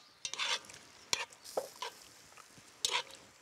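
A cream sauce cooks in a pan, with a few short bursts of stirring and scraping over a soft sizzle, spaced irregularly and fairly close.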